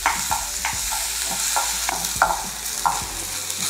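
Meat goes into a hot pan already sizzling with fried shallot, garlic and chili, a steady frying hiss broken by repeated sharp scrapes and clacks of the spatula as it is stir-fried, close and fairly loud.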